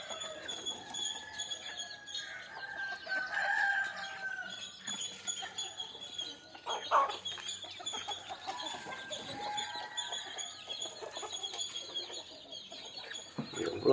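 Country chickens in a rural yard cluck and call on and off in a moderately close, busy mix, with a rooster's crow among them and scattered handling noises.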